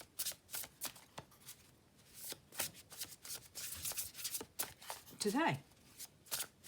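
Oracle cards are shuffled by hand without riffling, giving soft, repeated papery slides and flicks at close range, while a voice speaks briefly.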